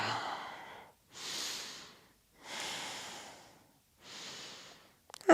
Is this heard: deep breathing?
yes